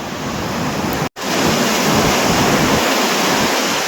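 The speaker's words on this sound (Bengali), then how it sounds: "সকালবেলার জন্য সমুদ্রের গর্জনটা আরো বেশি শোনা যাচ্ছে" Sea waves roaring on a beach in the morning, a loud, continuous broadband rush of surf close by, broken by one brief dropout before resuming unbroken.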